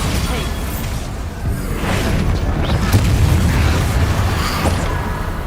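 Bombarda spell blasts in Hogwarts Legacy: a continuous run of booming explosions and whooshing bursts, loud and close, layered over dense combat ambience with no clear pauses.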